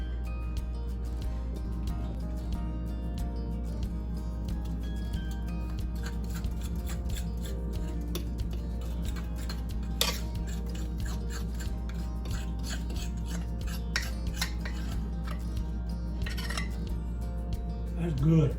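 Cornbread batter goes into a hot pan, adding faint scraping and clinking of utensil on metal over a steady low hum, with a few sharper taps standing out in a kitchen.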